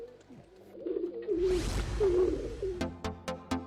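Racing pigeons coo in low, rolling murmurs in a two-story loft, interrupted by a brief rushing whoosh, then several sharp clicks or taps near the end.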